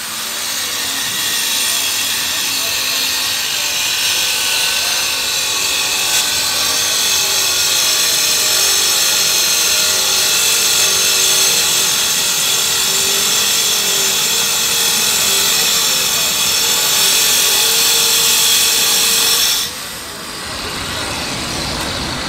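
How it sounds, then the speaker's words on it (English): Metabo MFE40 wall chaser fitted with a concrete dado blade cuts a 3/4 inch channel in concrete, running dustless with an ASR 35 vacuum attached. Its loud, steady high-pitched whine and grinding roar hold for about twenty seconds, then stop sharply, leaving only the vacuum's fading hum. "What I have on here though is a Dado Blade for concrete. This will cut a 3/4 inch channel. So let me turn it on"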